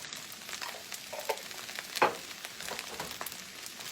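Minced garlic sizzles in hot oil in a pan for chicken fried rice, with a steady soft crackle, a few scraping stirs, and a brief louder hiss midway; fairly quiet overall.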